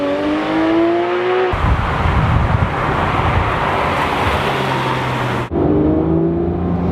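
A Porsche 911 GT3 RS with PDK gearbox accelerates hard: a rising engine note gives way to a loud, steady rush of wind and road noise, then the engine tone returns near the end.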